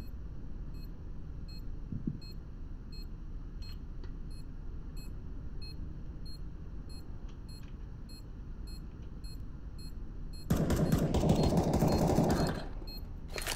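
A bomb planted in the video game CS:GO gives off faint, high, steady beeps at a regular pace. A loud roaring burst near the end briefly swamps the beeping.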